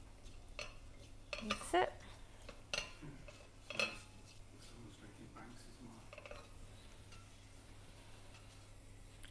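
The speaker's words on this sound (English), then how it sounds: "Get a spoon. Just to give it a little stir." A metal spoon scraping and clinking against a pan while stirring cumin seeds for a Keralan fish curry, several sharp taps and scrapes in the first few seconds over a quiet kitchen hum, with a brief spoken remark.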